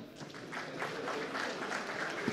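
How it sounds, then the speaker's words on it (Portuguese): Soft applause from a conference audience greeting a construction-industry panelist, a short wash of scattered clapping heard at a distance and fairly faint, with no clear speech. "Salva de palmas"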